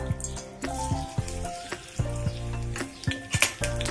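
Finely chopped onion hitting hot oil in a kadai, a close, continuous sizzle and crackle with a few stir scrapes over a steady tonal background, no voices.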